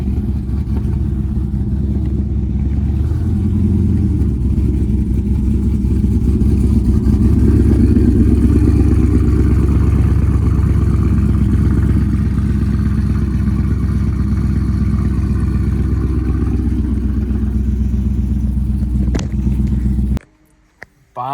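A tuned E85 Dodge Scat Pack V8 with a stage 2 cam idles on a dyno, loud and close, with a lumpy, choppy, uneven rumble that holds for about twenty seconds before cutting off abruptly.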